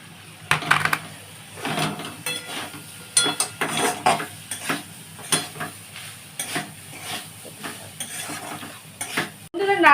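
Grated coconut being stirred in a cooking pan for Bengali narkel chochchori, with repeated scraping and clinking strokes and a light sizzle running throughout.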